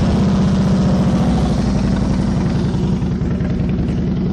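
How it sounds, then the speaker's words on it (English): A 2012 Harley-Davidson Heritage Softail Classic with Vance and Hines exhaust idling close up, a loud, deep, steady lumpy rumble with even pulsing throughout and no talk. "let's listen to those Vance and Hines roar."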